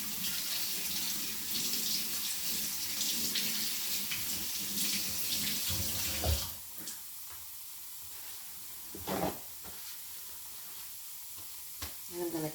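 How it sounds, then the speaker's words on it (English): Tap water runs steadily at a kitchen sink as hands are washed, a constant broadband rush for the first half, then quieter with brief splashes and bursts. "I'm going to wash my hands."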